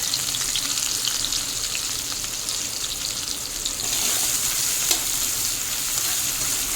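Chopped onion and slit green chillies fry in the oil left from frying eggs, giving a steady soft sizzle with occasional stirring scrapes, moderately faint and without talk.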